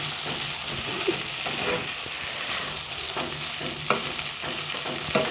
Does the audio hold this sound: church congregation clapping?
no